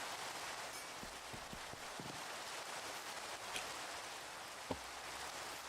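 Steady rain falls in the Minecraft video game, a soft, even hiss of drops with a few faint taps, quiet and continuous with no talk.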